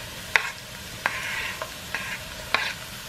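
Chopped shrimp quesadilla filling sizzling in oil while a spoon stirs it, with four or five sharp scraping strokes spaced roughly every half second over a faint steady hiss, no speech.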